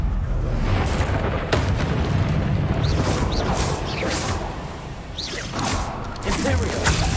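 Confringo fire spell cast in Hogwarts Legacy, a booming burst with whooshing flares amid dense game effects and rumble, repeated blasts spread over several seconds.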